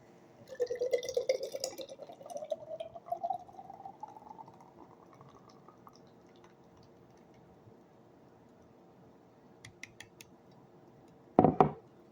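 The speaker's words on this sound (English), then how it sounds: "So we do this and then we do a hard pour." Nitro pumpkin spice latte beer is poured hard into a glass, a rising gushing fill that fades into faint fizzing, then a few clinks and a knock near the end.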